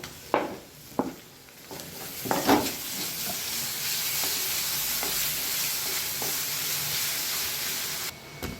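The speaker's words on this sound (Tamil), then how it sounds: "தக்காளி இப்போது வதங்கிட்டு இருக்குது." Sliced tomatoes and onions sauté in a pan with a steady loud sizzle and hiss, punctuated early by several scraping stirs of a utensil, continuing alone without talk.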